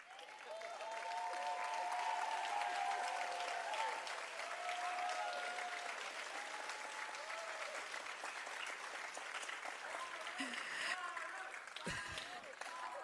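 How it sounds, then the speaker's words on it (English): Sustained audience applause fills a hall, dense and even for most of the stretch, with some cheering early on and a few handling thumps and louder claps near the end. "Bhargavi, please come out and take your applause."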